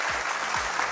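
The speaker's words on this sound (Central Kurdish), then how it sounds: "چەپڵەکانتان هەر بژی" Audience applause at a Kurdish television quiz show, a steady wash of clapping that carries on evenly through the short moment.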